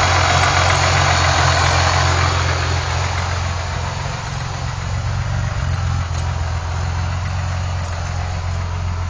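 A supercharged Thunderbird engine runs steadily during break-in, with a loud, constant idle, a deep low rumble and a broad mechanical whine throughout and no talk.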